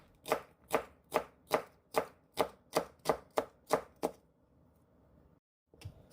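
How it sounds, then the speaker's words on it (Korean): A knife slicing onion into thin julienne strips on a cutting board, about ten crisp, evenly spaced chops in a steady rhythm, close and clear, followed by a short pause and a final couple of cuts. "양파 조금도 채 썰어 놓습니다."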